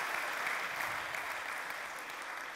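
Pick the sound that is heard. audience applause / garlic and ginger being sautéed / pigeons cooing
audience applause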